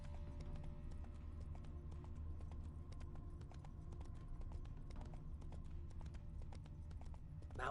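Roach, Geralt's horse in The Witcher 3 video game, clip-clops along in a steady, continuous rhythm of hoofbeats, fairly close, over a constant low hum of game ambience, with a brief sharper sound near the end.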